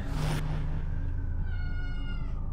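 A cat meows in a short, clear call that rises out of steady game background audio, with no talk over it.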